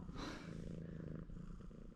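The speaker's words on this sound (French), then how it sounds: "Tu serais pas en train de caresser un chat" A cat purrs close up while being petted, a low steady rhythmic rumble running throughout, with a soft rustle at the start and no voices.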